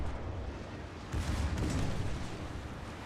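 Secondary battery of the German battleship Friedrich der Grosse firing in World of Warships, a dull rumbling volley of booms swelling from a low background into heavier thuds before easing off, with no talk.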